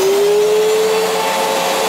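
A 1999 Fantom Fury vacuum cleaner runs steadily and loudly up close, its motor roar carrying a clear whining tone that slowly drifts in pitch, with no talking.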